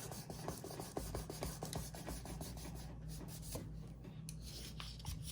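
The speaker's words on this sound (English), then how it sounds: "I usually just start with some 2000 grit and just smooth it out as much as I can so that whenever we paint, there's no rough edges" A sneaker midsole on an Air Jordan 5 Grape being hand-sanded with fine 2000 grit sandpaper, giving a steady run of soft, close rubbing strokes in a quick repeated rhythm, with no talk.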